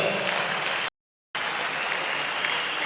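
Delegates at a national trade union congress applaud in a dense, even clatter of many hands that drops to silence for a moment and then resumes.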